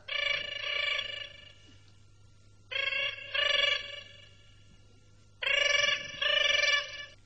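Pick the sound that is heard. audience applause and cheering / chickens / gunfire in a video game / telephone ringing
telephone ringing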